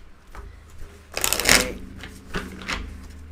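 Playing cards shuffled up close during a live stream, a soft lead-in building to a dense riffling burst midway, then a few lighter shuffles and taps.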